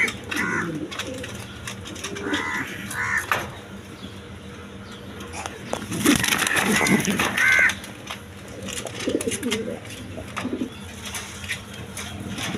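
A big-bodied pair of Mundian pigeons coos in soft repeated bursts at a busy pigeon sale, with other birds calling and a steady background bustle.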